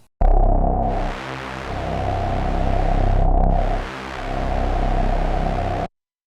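Loud, buzzy Access Virus TI synthesizer notes with a sweeping filtered tone, filters split left and right, two long sustained phrases with a brief dip between, stopping abruptly.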